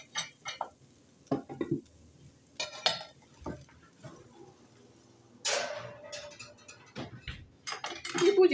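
A frying pan of Tatar pancakes (mich koymagy) being moved into an oven, with scattered clanks and scrapes of metal on metal and a brief burst of hiss, close and intermittent, with no talk.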